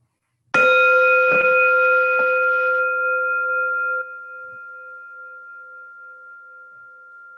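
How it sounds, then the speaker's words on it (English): A single bell is struck once during an online aikido class, giving a clear ringing tone that sustains for several seconds and fades out slowly, with no talking. "Okay, there's the bell"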